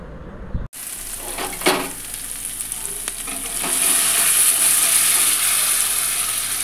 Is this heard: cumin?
yes